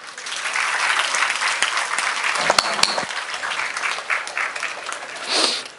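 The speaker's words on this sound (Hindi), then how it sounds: "बहुत बढ़िया, जोरदार तालियां" Participants at a happiness and wellness workshop give loud, sustained applause lasting several seconds, with a few sharp louder claps near the middle and a brief swell toward the end.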